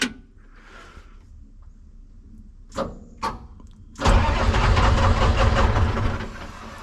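Starter cranking the Detroit diesel engine of a Lull 353 telehandler, with a couple of short clunks before a loud, sustained rumbling crank close by that eases slightly at the end.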